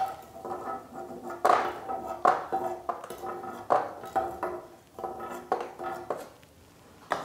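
Fried almonds lifted out of a pan with a spoon while making laddoos, heard as a series of close metallic scrapes and clinks against the pan, irregular and fairly loud, with no voice over them.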